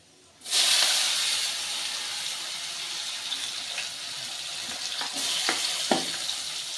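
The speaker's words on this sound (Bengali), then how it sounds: "পেঁয়াজটা একটু হালকা করে ভেজে নেব" Chopped onion hits hot fish oil in a pan with a sudden loud hiss that settles into a steady close sizzle, broken by a few sharp pops and stirring clicks toward the end.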